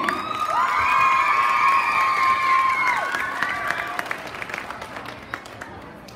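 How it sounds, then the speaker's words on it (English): An audience at a lip sync event applauds and cheers for performers, with a dense wash of clapping and several sustained shouts and whoops rising over it before the crowd noise gradually thins. "Everybody, round of applause for KICK."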